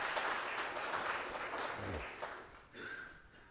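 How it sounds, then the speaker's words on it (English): A church congregation claps for a woman as she comes forward, a broad wash of applause that gradually thins out, followed by a brief spoken word at the end. "it's okay to give her a round of applause as she comes."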